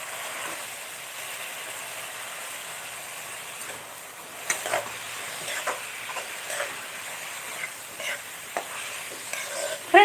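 Chopped onion and tomato sauté in a pan, heard as a steady gentle sizzle, with intermittent stirring clicks and scrapes that become more frequent toward the end and no voices.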